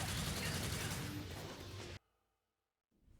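Rapid gunfire in Devil May Cry 4, a dense loud barrage of shots for about two seconds that cuts off abruptly into near silence before another burst begins.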